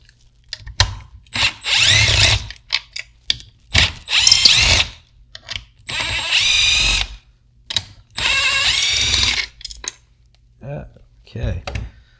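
A power drill or impact driver whirs in repeated bursts of a second or so while backing out bolts on a SoundOff Signal 100J siren speaker, with ratcheting clicks and metal clinks in the gaps.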